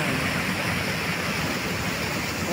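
A river flows steadily as a broad, even rush of water that stays constant and fairly loud the whole time, with no talking heard.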